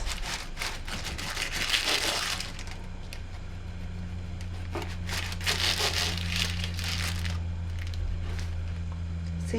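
A knife cuts the edges off a baked, set Sri Lankan coconut cake (pol cake), making close bursts of scraping, crinkling strokes over a steady low background hum.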